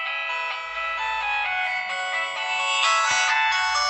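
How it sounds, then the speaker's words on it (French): A 2G mobile phone plays its built-in ringtone loudly and close by, a bright, harsh electronic melody of shifting tones with no talking. "la sonnerie en fait qui a été livrée avec est vraiment dégueu"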